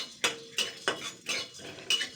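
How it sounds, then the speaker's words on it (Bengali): Spatula scraping a dry kadai while chili and cumin roast without oil, five evenly spaced metallic scrapes and clinks, close and fairly quiet. "তো এটাকে আমি 2 মিনিট ধরে ভেজে নেব শুকনো কড়াইতে"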